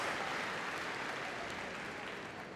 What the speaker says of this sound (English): Come on, everybody. Give them a cheer.